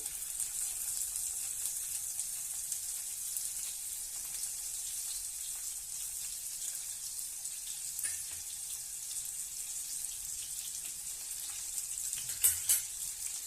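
Onions frying in hot oil in a pan give a quiet, steady high sizzle that runs unbroken, with a couple of faint stirring clinks near the end and no talking.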